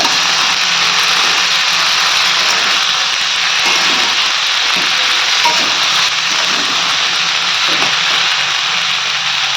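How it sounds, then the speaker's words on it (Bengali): Cauliflower and chopped tomato fry in a pan while being stirred. A loud, steady sizzle runs throughout, with faint scraping from the stirring underneath and no voices. "দিয়ে দিচ্ছি টমেটো কুচি দিয়ে সব কিছু ভালোভাবে মিশিয়ে নেব"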